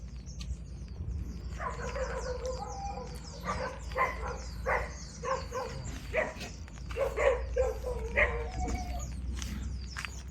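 Dogs bark in a loose series of yelps and barks at a beach, at moderate distance over a steady low background rumble.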